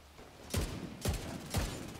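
Assault rifle fire in The Division 2, with three sharp, evenly spaced shots about half a second apart, close and punchy over a low background rumble.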